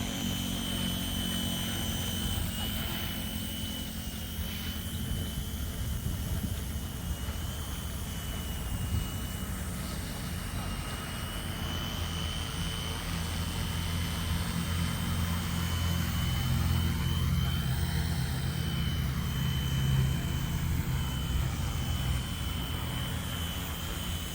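A remote-controlled M-03 helicopter hovers and readies to land, its rotor and motor giving a steady, loud, close whine and buzz that holds throughout without any speech.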